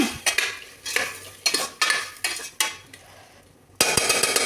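A spoon scrapes and clinks against a pot while mutton curry with tomatoes is stirred, several separate bursts of stirring with short pauses between, a faint sizzle underneath, close up with no voices.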